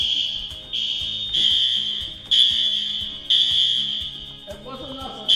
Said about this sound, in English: Screwed up so royally I've set off an alarm.